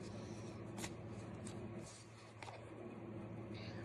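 Oracle or tarot cards are shuffled and drawn by hand, soft papery riffles and quick flicks close up and faint, with a quiet voice briefly heard between the shuffles.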